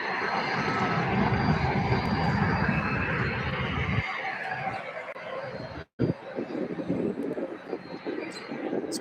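UPS cargo plane at SDF airport, a distant jet engine roar that rumbles steadily, then thins out into lighter drifting airport noise after a brief dropout.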